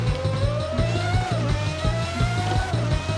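Race car engine of a quad exhaust Ferrari in the Assetto Corsa racing game, a steady loud droning roar with a rising and falling pitch as it holds speed, with rhythmic low thumps underneath.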